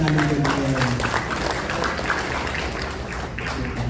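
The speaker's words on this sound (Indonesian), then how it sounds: "Tepuk tangan untuk dia." A crowd applauds the acting mayor at the installation ceremony for the Nahdlatul Ulama regional board in Papua province. The applause is steady and fairly loud throughout, with some background voices mixed in.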